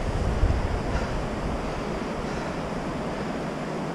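The River Wharfe in Yorkshire rushes as oxygenated water in a steady, broad, loud roar. The sound is constant with a slight blustery wind texture and no voices.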